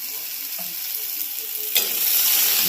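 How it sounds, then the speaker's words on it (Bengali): Turmeric sizzling as it fries in a hot pan, stirred steadily for a Bengali thor (banana stem) ghonto, a continuous close hiss that swells louder near the end with no voices. "ভালো করে ভেজে নেব। হলুদ দিলাম"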